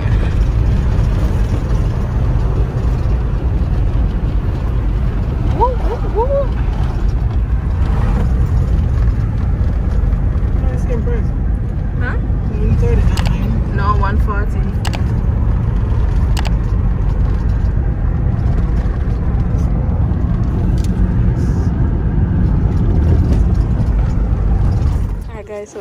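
A car on a road in Jamaica, heard from inside the cabin, gives a steady loud engine and road rumble throughout, with people talking over it and a few faint clicks.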